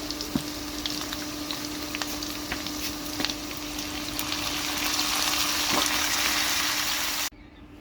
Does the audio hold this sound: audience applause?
no